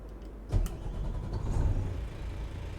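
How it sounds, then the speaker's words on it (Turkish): A truck engine cranks and fires up in Euro Truck Simulator, a Renault Range T or Iveco S-Way cab: a short starter burst, then a deep, steady idle rumble close by, with no talking over it. "Evet, yeni motor sesimiz de bu."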